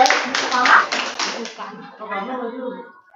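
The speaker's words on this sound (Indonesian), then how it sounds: "Tepuk tangan untuk Bu Guru Suka" Brief clapping from a group in a room at a school teacher training event, a short burst of applause that fades as talking continues underneath and after.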